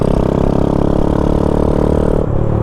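A 1972 Honda Chaly motorcycle engine idles with a steady close putter, its carburetor needle set at the wrong height, the rhythm dipping briefly near the end in a hesitation miss.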